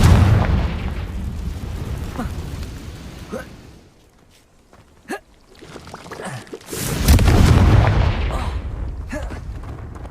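The Confringo blasting spell in Hogwarts Legacy goes off as a loud, deep explosive boom with a rumbling tail, followed by a short lull with small pops before another heavy rumbling blast swells up.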